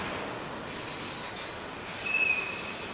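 A rebuilt EMD locomotive hauling a train past at the Port of Montreal, with a steady rumble of rolling wagons and a thin wheel squeal rising near the end.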